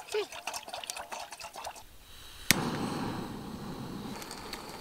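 Broth poured into a cooking pot on a snowshoe outing near Monte Grappa, a soft splashing and filling wash that starts suddenly midway and runs steadily, following a stretch of speech.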